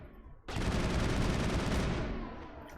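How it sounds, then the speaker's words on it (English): Sustained close gunfire in Mass Effect, a dense burst of rapid shots lasting about a second and a half before tailing off into echoing residue. "Bloody Garrus shooting at me?"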